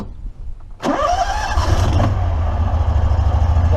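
An EZ-GO ST 4x4 golf cart's small engine cranks and catches at about one second, then settles into a loud, steady idle with a low rumbling throb.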